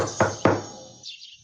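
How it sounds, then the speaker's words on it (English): Knocking on a door in a Christian puppet show, two sharp knocks in quick succession, close and distinct, followed by a brief quieter sound. "Who's that knocking at my door?"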